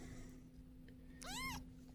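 A young kitten gives one short, high meow late in a quiet moment, close but soft, over a faint steady hum.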